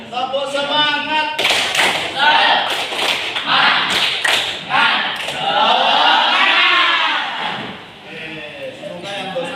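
A group performs the rhythmic 'tepuk semangat' clapping chant, sharp patterned claps punctuating loud chanted voices in a lively classroom or training session, with bursts of clapping and shouting together.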